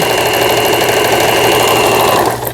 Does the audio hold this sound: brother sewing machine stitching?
yes